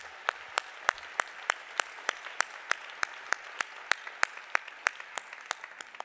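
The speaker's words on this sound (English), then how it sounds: "Let's give a big applause for Hans and his team" Clapping at a grand opening ceremony: crisp, evenly spaced claps in a steady rhythm, moderately close, with no talk over them.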